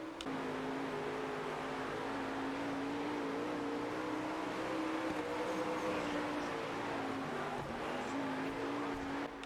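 A dirt race car engine in the World of Outlaws racing video game drones steadily and loudly for the whole stretch, a constant mid-pitched hum with slight pitch shifts and no talk over it.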